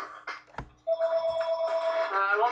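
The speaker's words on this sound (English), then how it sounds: "can you turn the phone off?" A telephone rings with a steady electronic trill that starts partway in and continues to the end, fairly loud and close, after a few brief knocks and clatters.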